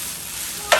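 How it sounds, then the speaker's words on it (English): Guyanese-style chow mein frying in a hot pan gives off a steady, close sizzling hiss, with a brief louder burst of stirring near the end. "it's getting a nice little sizzle, which, you know, which I like to hear when I'm cooking"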